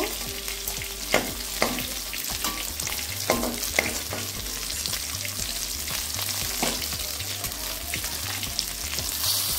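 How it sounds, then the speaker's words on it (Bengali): Pieces of rohu fish fry in hot oil with a dense, constant sizzle, punctuated by sharp clinks and scrapes as they are turned and stirred in the pan. "মাছগুলো ভেজে নেওয়া হয়ে গেছে,"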